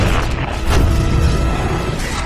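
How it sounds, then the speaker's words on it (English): In an animated Lilo & Stitch film scene, a spaceship explodes with a loud, dense, rumbling blast that sustains a crashing roar throughout, peaking just after the start. "As the ship explodes, Stitch and Lilo leap from onto the red ship below."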